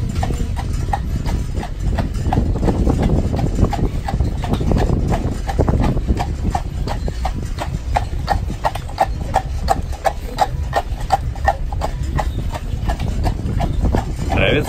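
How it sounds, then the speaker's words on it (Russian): Horse hooves clip-clop in a steady, repeated rhythm on a hard surface, close and continuous, with some faint background noise, in Kolomenskoye park, Moscow. "Лошадка нас ждет."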